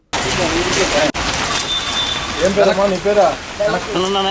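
Heavy rain pours steadily as a dense, continuous hiss throughout, with people talking over it during an outdoor pension handout by a rural MLA.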